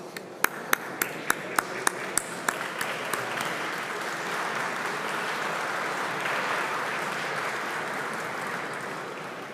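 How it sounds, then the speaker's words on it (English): A conference audience bursts into sustained applause while a series of sharp, evenly spaced pings ring out over its opening seconds, then the broad clapping carries on steadily at moderate loudness. "please join me for a round of applause."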